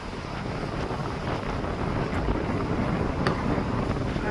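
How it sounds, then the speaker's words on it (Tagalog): Strong wind buffets the microphone at a playground where children play baseball, a steady loud broadband roar with gusts swelling throughout and no clear voices. "Ang lakas ng hangin."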